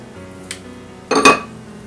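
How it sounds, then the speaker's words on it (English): A metal mixer beater being cleaned off by hand, giving a faint tap and then a brighter double clink of utensil against metal, near and isolated. "Go ahead and clean off my beater."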